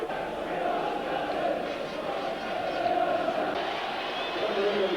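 Football crowd at Sunderland AFC's Third Division championship match in 1988 roaring at the final whistle, a broad sustained cheer filling the ground beneath a commentator's voice.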